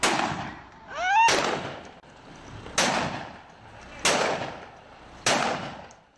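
A shotgun fires repeatedly in a residential street, five sharp loud blasts spaced about a second apart with echoing decay, and a faint voice cries out between the first shots.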